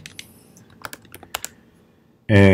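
Keystrokes on a computer keyboard while coding HTML, a scattered run of light, separate clicks at close range, ending in a sudden loud burst of another sound.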